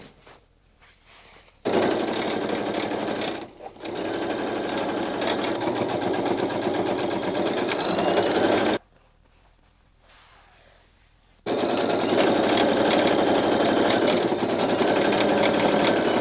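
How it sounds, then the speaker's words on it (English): A serger running brown thread trims and overcasts the edges of fabric for balloon pants, sounding as two long, loud, steady mechanical runs separated by a short pause and a longer silent gap. "I think I'm going to use the brown serger thread to serge my edges."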